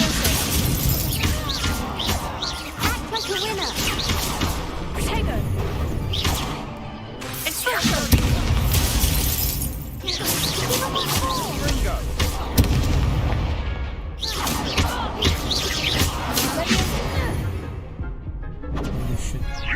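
Hogwarts Legacy Confringo spell explosions boom and crackle repeatedly in a loud, dense battle, with heavy blasts and shattering debris piling up amid continuous combat noise and occasional speech.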